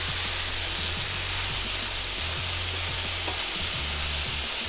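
Chicken fajita mix frying in a pan over medium-high heat, a constant close hiss and sizzle with soft intermittent stirring and scraping, no voices.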